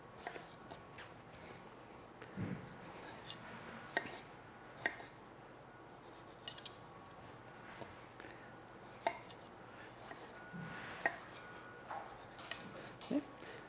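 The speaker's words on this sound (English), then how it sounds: "If they're larger, you can cut them into smaller pieces." Knife chopping large fresh strawberries on a cutting board while making a summer fruit crumble, giving soft, irregular thuds and taps spread across the stretch, faint and close, over a quiet kitchen background.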